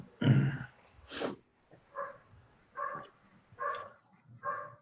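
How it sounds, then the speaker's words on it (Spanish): A dog barks six times at a steady pace, with the first bark the loudest and the rest evenly spaced and moderately loud, heard from a little distance indoors. "Mira, se apunta un perro también."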